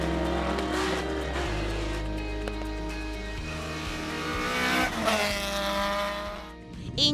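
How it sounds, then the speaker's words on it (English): A Rothmans Opel Manta 400 rally car at a festival of speed, its engine note holding steady then rising and shifting through revs, loud and close with some tonal whine and a sharp burst near the end. "you're driving a beautiful Rotman's Manta 400"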